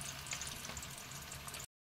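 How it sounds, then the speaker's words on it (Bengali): Rounds of raw green banana slices frying in hot oil, a steady close-up crackling sizzle with fine popping bubbles that continues evenly, then cuts off abruptly before the end. "এইভাবে বাকিগুলো আমি ভেজে নিচ্ছি।"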